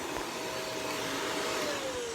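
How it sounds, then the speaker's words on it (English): A household vacuum cleaner runs steadily while vacuuming upstairs, a loud, continuous broadband whoosh with a faint whine gliding slowly downward in pitch, heard alone without talk. "Turn your vacuum off."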